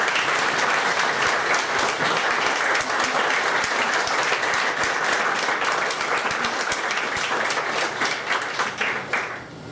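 Sustained applause from wedding guests for a music trio at a Montréal wedding ceremony, dense clapping filling the room steadily before tapering off unevenly at the end.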